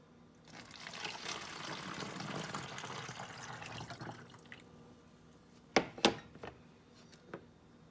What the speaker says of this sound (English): We're going to add our water first.